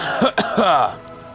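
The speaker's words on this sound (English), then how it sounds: "I had to clear my throat." A person clears their throat twice in quick succession, loud and close, with harsh rasping bursts and no other sound.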